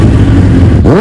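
A 2001 Kawasaki Ninja ZX9R motorcycle running flat out near top speed, giving a loud, close engine roar with strong wind noise. Near the end a sharp tonal sweep climbs as the revs shift.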